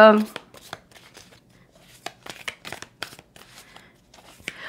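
Tarot cards are handled and shuffled close up in a series of quick soft flicks and slaps, with a brief voice at the start.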